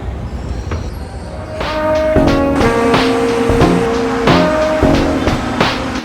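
Inside a moving LRT light rail train in Manila: a rumbling ride with tonal electric motor whines and squealing wheel tones rising and falling.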